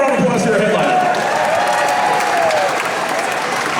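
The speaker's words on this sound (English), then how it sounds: "another round of applause for your headliner" A crowd aboard a KISS cruise event in Las Vegas applauds loudly for headliner Gene Simmons, dense continuous clapping close up, with a voice speaking over it.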